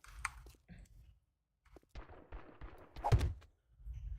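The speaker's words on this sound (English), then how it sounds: "There's gunfire outside." Gunfire in the survival game 7 Days to Die cracks out in a few sparse, faint shots and clicks spread over quiet stretches, with a louder burst near the end.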